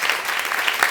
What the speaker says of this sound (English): Let's give a round of applause to Aditi as well.